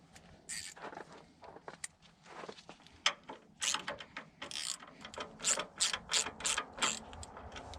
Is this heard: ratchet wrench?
yes